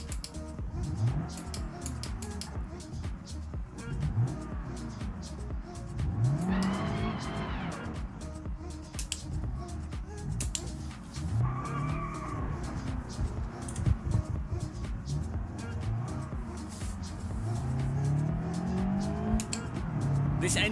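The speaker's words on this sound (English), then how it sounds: "This engine sound reminds me of Live for Speed." A synthesized car engine in a racing video game revs up and down repeatedly, rising and falling pitch sweeps with occasional tire squeal, loud and close throughout, with a voice talking intermittently over it.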